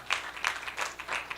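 Audience applause at a female lawyers' real estate conference: a brief patter of scattered hand claps with uneven rhythm, moderately loud and unaccompanied.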